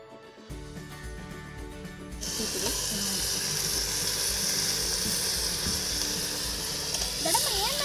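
Soaked brown chickpeas tipped into hot tempering oil for a village-style chickpea sambar set off a loud, steady sizzle after a quieter start, holding at full crackle with faint utensil clinks and no voices.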